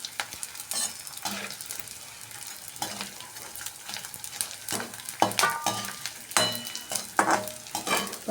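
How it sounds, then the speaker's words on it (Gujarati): Edible gum (gond) frying in hot ghee over medium heat, a continuous crackling sizzle broken by bursts of stirring and scraping in the pan, close and fairly loud with no voices. "આ રીતે બધો ગુંદર આપણે ઘીમાં તળી લીધો છે"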